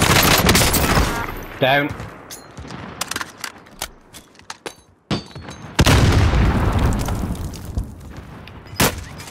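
Gunfire in Call of Duty: Modern Warfare, with loud bursts and single shots scattered across the clip and heavy booming blasts near the start and middle, while players talk over the action.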